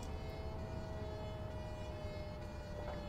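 An emergency siren in the OMSI 2 bus simulator game holds a steady, fairly quiet tone under the game's engine noise, with no talking.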